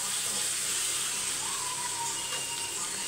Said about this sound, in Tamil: நான் இப்போ ஃப்ரை பண்ணி போடுறேன்.